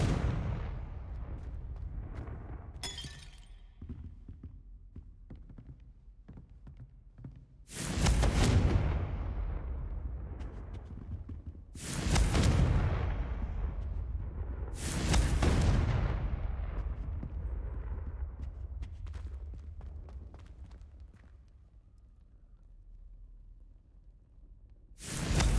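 Confringo blasting spells going off in Hogwarts Legacy, three loud, deep explosions with rumbling tails a few seconds apart, after a quieter stretch of small clicks and a brief sparkle, with no talking.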